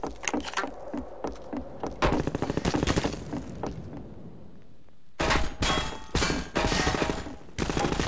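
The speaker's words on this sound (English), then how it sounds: "Oh, they're shooting from right there." Rapid bursts of enemy gunfire in Half-Life 2: Episode Two, loud clustered volleys separated by short pauses, with a near-silent gap midway before heavier firing resumes.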